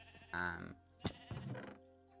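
A video game sheep in Minecraft bleats twice, a wavering nasal baa followed by a shorter one after a sharp click, close and clear over a faint background.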